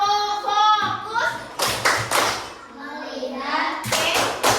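A class of children doing a rhythmic focus clap, several loud broadband clap bursts in a short pattern, mixed with children and a teacher chanting and talking throughout.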